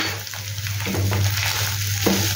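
A spoon stirs and scrapes through a sizzling spice mixture in a hot pan, with steady frying crackle and a couple of distinct scraping strokes.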